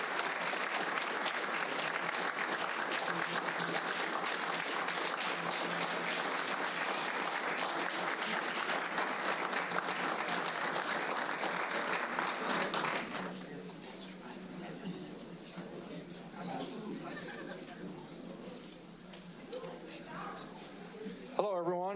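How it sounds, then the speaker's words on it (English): Sustained audience applause rings out at a public school board meeting for about thirteen seconds, then fades into quieter room noise with scattered voices and movement. "Let's give them a round of applause,"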